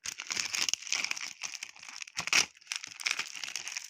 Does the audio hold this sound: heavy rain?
no